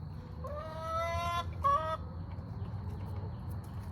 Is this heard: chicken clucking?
yes